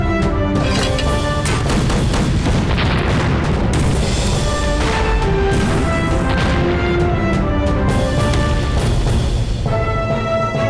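Eighth Route Army mountain-gun artillery pounding Japanese forces in a Chinese wartime battle film: a dense, continuous barrage of heavy booms and crashing blasts, loud and relentless throughout with no pause.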